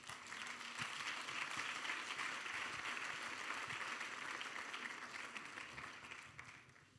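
A church congregation applauds during a sermon, a sustained, even wash of many hands clapping that holds for several seconds and then fades slightly at the end.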